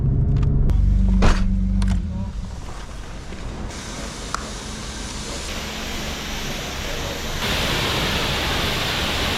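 A BMW E34 on the road, heard as a continuous engine and road rumble with a broad hiss. Two short sharp knocks come early, then a steady drone that grows slightly louder near the end.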